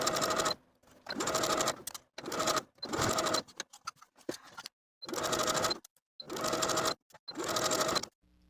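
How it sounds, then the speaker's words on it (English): A home sewing machine edge-stitches close to an inner fabric fold on elastic-waist shorts, running in six steady bursts separated by short pauses, close and fairly loud with no talking. "I'll take it to my machine and edge stitch close to that inner fold all the way around"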